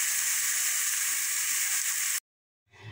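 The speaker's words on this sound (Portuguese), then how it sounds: "eu vou deixar ela fritando aqui" Pieces of pork belly frying in hot oil for torresmo, a steady loud sizzle that cuts off abruptly, then a fainter bubbling returns.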